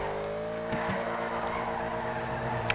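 Car engine revving steadily while drifting through streets in GTA, a sustained droning roar with a couple of brief knocks, no tire screech standing out, mid-distance and continuous.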